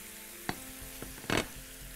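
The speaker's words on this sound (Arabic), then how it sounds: "بحيث ان انا احمر بيه البصل زائد بقيه التتبيله" Onion frying in a pan with a meat marinade gives a soft, steady sizzle, broken by a couple of brief stirring scrapes and a short louder hiss near the end.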